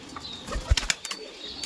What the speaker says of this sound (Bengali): পায়রাগুলো দেখুন